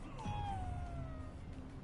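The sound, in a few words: cat meowing in video game Ghostwire: Tokyo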